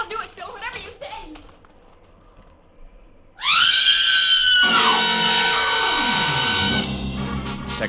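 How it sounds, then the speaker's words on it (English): A woman screams long and loud inside a barn, one sustained, piercing shriek that rises sharply and holds for several seconds, following a stretch of quieter talk from a man and woman. "get over there inside the barn and scream. Long and loud, huh?"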